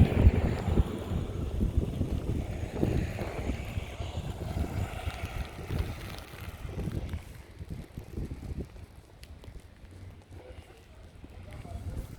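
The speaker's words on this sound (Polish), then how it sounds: "nie wiem, czy to widzicie na nagraniu, ale jest ostra śnieżyca i wiatr" A sharp snowstorm wind buffets the microphone in a town street with buses passing, roaring and gusting loudly at first and then easing, while a person talks over it.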